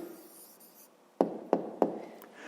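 A pen writes a short answer in a school notebook during a fifth-grade math exercise: soft scratching, then three crisp taps on the page in quick succession, quiet and close with no voices.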